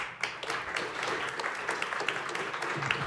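Steady applause from an audience at a university short-talks evening, a dense wash of many hands clapping for the speakers, fairly loud and continuous throughout with no one speaking.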